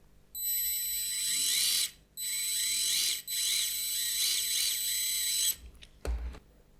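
The drivetrain of an SNT Mix Go MG117 1/43 rear-wheel-drive RC touring car whirs at high pitch in three long runs separated by brief stops, ending with a couple of short clunks.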